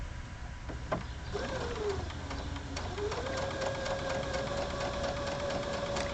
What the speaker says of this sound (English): So we'll sew along.